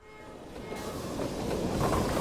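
A train runs on rails in the video game Strike Force Heroes, a rumbling rail roar that swells steadily louder over a couple of seconds, with no speech.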